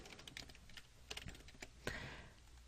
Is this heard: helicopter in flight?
no